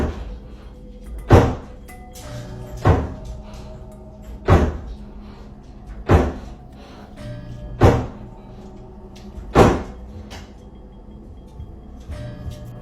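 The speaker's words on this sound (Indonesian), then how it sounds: "Terlihat pintu kamar yang bergerak-gerak sendiri sehingga menyebabkan suara benturan" A bedroom door swinging on its own and banging shut, six loud, hollow thuds spaced about every second and a half, close by against a quiet room.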